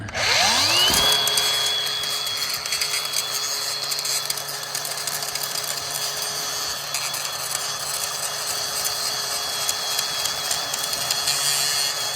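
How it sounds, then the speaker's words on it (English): In a mechanic and welder's workshop, a power grinder on metal spins up with a rising whine and settles into a loud, steady high-pitched grind that runs for the rest of the clip. "let's do a little bit of grinding"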